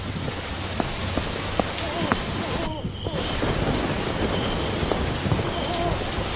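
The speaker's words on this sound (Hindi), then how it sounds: "आसमान में जोर जोर से बिजली कड़कने लगी" Heavy rain pours steadily on surfaces while thunder rumbles during a storm, with sharp drop impacts close by and a brief lull near the middle.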